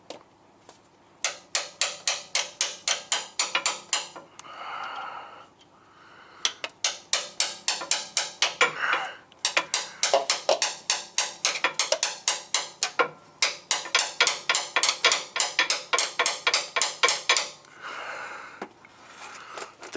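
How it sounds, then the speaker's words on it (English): Repeated hammer blows punch a hole in the bottom of an oil filter on a Kenworth T680 truck, in rapid rhythmic bursts of sharp metallic strikes separated by short pauses, loud and close. "I'm going to punch a hole in the bottom of the filter."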